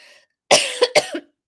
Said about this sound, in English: Apologies, I have a little bit of a cough.